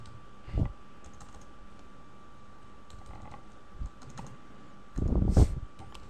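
Computer keyboard typing, a few soft scattered bursts of key clicks separated by quiet pauses, close by with no talking.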